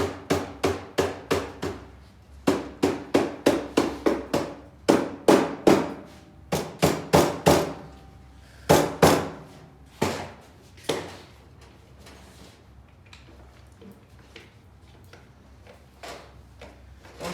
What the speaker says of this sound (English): We have a Lixie mallet, or a soft face mallet, dead blow hammer